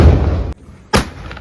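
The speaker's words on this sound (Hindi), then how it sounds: "अभी आप पटाखा फोड़ने वाले 25 शॉट" Two loud blasts from a 25-shot Diwali firecracker split by a brief quiet gap, each a sharp broadband bang, with a lingering rumble after the first.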